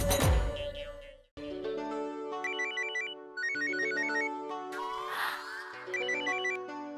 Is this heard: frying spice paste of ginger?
no